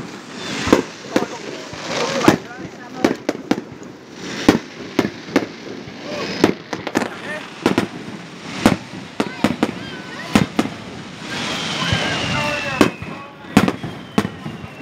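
At a fireworks festival, distant fireworks pop and crackle in irregular bursts over about fifteen seconds, with a whistling rocket near the end, while people chat nearby in Vietnamese.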